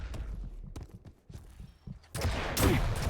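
Rocket launcher fire in an arena shooter during a 2v2 team deathmatch match: scattered thuds and clicks, then a loud rocket blast with a booming explosion near the end.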